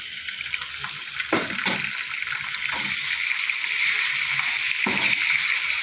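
About half a kilo of chicken dropped into a hot pan with browned onions sets off a steady loud sizzle and hiss, broken by a few scraping stirs.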